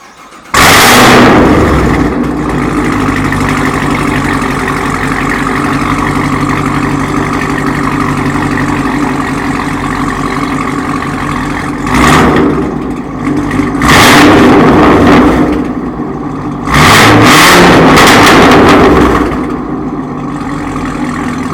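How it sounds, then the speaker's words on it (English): A loud Chevrolet Camaro engine with a loud aftermarket exhaust cranks and catches, then idles with a throaty rumble before several sharp revs boom out, no talking. "let me go ahead and start it up"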